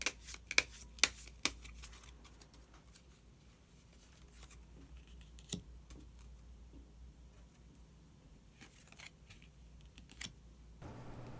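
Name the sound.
shuffling and drawing tarot cards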